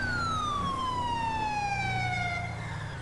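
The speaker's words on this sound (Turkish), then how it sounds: "Siren açık ya, bizi gören fren basıyor direkt." A police car siren in the video game GTA 5 wails steadily and loudly for a few seconds, its tone sliding slowly downward over a low engine hum.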